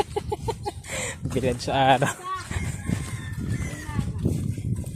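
A chicken clucks in quick bursts and lets out a short crow close by, while people talk over it outdoors.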